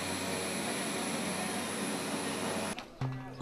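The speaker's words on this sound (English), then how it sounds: "The scene of flight landing and taking off at Lukla Airport is extremely exciting." An airplane at Lukla Airport in Nepal produces a loud, continuous jet-like roar that ends abruptly, followed by a few quieter mechanical sounds.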